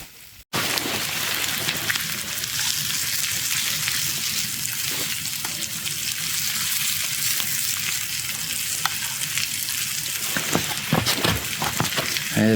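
Pork tenderloin sizzling in a pan over a campfire, a loud, dense, steady frying crackle that starts abruptly and carries on without a break, close up with no talking.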